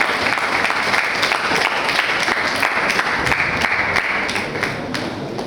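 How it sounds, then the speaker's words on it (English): Steady crowd applause as dignitaries take their places on the dais before a special lecture, a dense, even wash of many hands clapping throughout without a break. "Let us applaud them with a clap."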